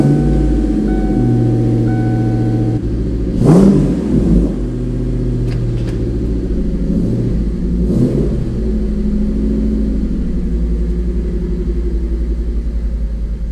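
A Ford SN95 Mustang GT with the 4.6 SOHC V8 and Borla side exhaust idles with a deep, steady burbling rumble, blipped up in a quick rev once or twice before settling back, loud and close.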